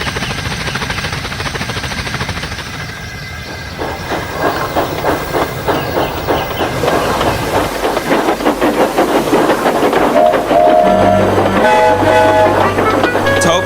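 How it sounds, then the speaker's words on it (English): Steam engine Toby setting off along the rails, a steady hiss building into a fast rhythmic clatter of wheels on track, loud and close, with brief whistle-like tones near the end. "Soon he was steaming well, and his wheels were thundering along the rails."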